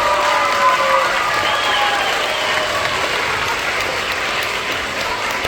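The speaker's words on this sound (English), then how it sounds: "let's go ahead and give these guys a round of applause" An elementary school assembly crowd claps steadily throughout, a dense sustained round of applause with some children's voices and cheers mixed in.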